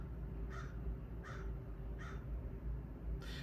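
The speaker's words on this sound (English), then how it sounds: "those are crows." Crows give four evenly spaced caws, faint and somewhat distant over a steady background hum, with no speech.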